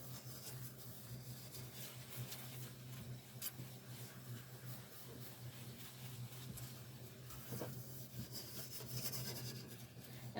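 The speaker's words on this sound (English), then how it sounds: "I'll scrub this thing down really good in circular motions" A metal pan is scrubbed clean in circular motions, making a faint, continuous rubbing and scraping under a steady low hum, with occasional sharper scratches.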